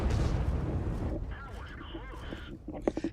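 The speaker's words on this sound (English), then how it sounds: "I'm going to drop some artillery on them first" Artillery fire on tanks in World of Tanks, Frontline mode: a heavy booming blast with a deep rumble that rolls out over the first second, then softer game noises and a few sharp clicks toward the end.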